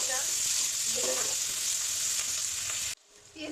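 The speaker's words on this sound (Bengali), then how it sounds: "পেঁয়াজটা ভেজে নেব।" Onion frying in hot oil for a prawn dopeyaja, a continuous bright sizzle with faint stirring, cut off abruptly near the end before a quieter, different sound begins.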